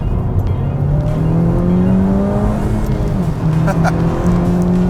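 A Honda Civic Type R engine revs hard toward 9,000 RPM, loud and close, its pitch climbing steadily before dipping briefly and holding high again.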